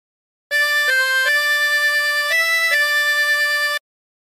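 Harmonica playing a phrase of There's a River of Life, a few blown and drawn notes held steadily in one continuous breath for about three seconds, close and clean between silence.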